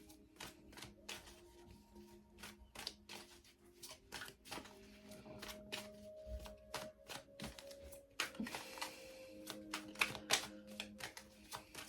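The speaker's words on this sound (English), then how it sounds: "I'm still shuffling." Tarot cards being shuffled close up, a quick run of crisp riffling snaps and flicks in irregular bursts, fairly quiet.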